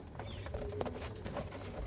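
Soft, low cooing of doves, faint and brief, over a murmur of background noise in a bird colony.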